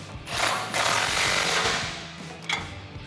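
An impact wrench drives 18mm bolts on a tubular off-road front bumper for a 2013-2018 RAM 1500 4x4, with two close, loud rattling bursts, a long one and then a short one.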